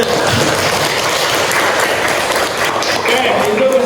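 Students in a classroom clap together, loud dense applause filling the room steadily from start to finish, with a little voice mixed in.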